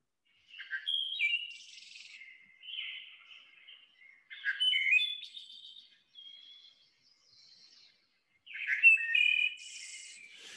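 Hermit thrush song from a played recording: clear, high flute-like phrases, each opening on a held note and rising into a fluttering trill, repeated with pauses between them, alone and fairly close.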